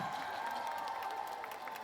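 An outdoor festival crowd at the Mungyeong tea bowl festival claps steadily, a dense patter of applause at moderate distance without pause.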